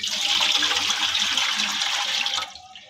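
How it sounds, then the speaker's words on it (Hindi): Water poured from a jug into a steamer pot while preparing veg momos, a steady close splashing gush lasting over two seconds before it stops abruptly. "स्टीमर में हम पानी डाल देंगे"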